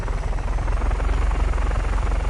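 A helicopter in the video game Just Cause 3 gives a loud, steady rotor thump that pulses rapidly and evenly throughout, close and alone.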